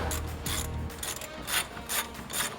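A ratchet working on tight bolts on a Nissan Patrol during a front diff and CV swap, several quick bursts of clicking pawl sounds with a faint rubbing mechanism noise between them, close and moderately quiet.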